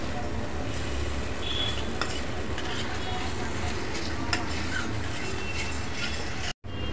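A chili masala paste for kaju masala sautés in oil, a steady sizzle with scraping and stirring of a spoon against the pan, close up, with a brief dropout near the end.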